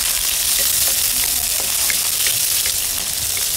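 Onions sautéing in cooking oil for a home-style chicken feet dish, a loud, dense and continuous sizzle heard up close with no talking.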